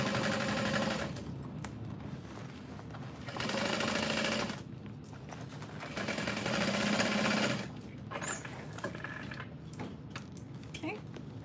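A sewing machine stitches across the top of a backpack, running in several sustained bursts of a few seconds each with brief pauses between, close and fairly loud, including a backstitch.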